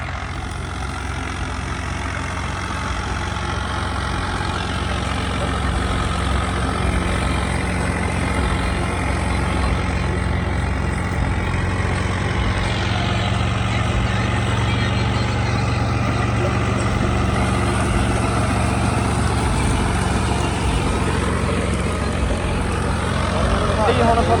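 A heavy tractor engine idles steadily with a low, continuous rumble, running the whole time without pause.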